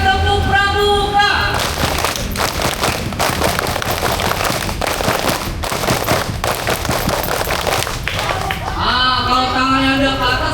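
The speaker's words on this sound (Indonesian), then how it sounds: "Dua kali tepuk pramuka." A group of scouts claps a rhythmic scout clap twice, sharp, loud, rapid bursts of patterned hand claps that fill the middle, framed by a voice calling out at the start and end.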